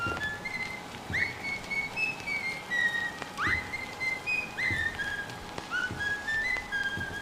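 A whistled melody plays in the horror video game Bendy and the Ink Machine, with short sliding notes repeating in a slow tune, moderately loud over a faint, crackly ambient background.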